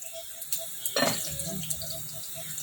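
Boiled macaroni being drained of its cooking water in a kitchen, a splashing pour with light clinks of a pot, then quieter trickling and dripping.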